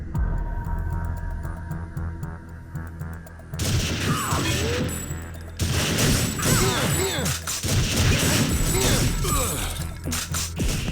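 Gunfire and explosions from the video game TimeSplitters fill the clip: bursts of rapid weapon fire and crashes over a steady game soundtrack, loud and continuous, with no speech.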